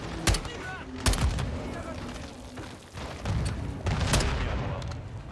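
Gunfire in the video game Modern Warfare 2 cracks out in sharp bursts, several loud nearby shots with rumbling booms and battle noise between them.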